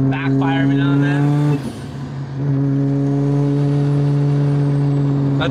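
Mazda RX-7 FD engine heard from inside while driving, a loud steady droning hum that briefly dips and then settles back to a constant cruising tone, with voices talking over it.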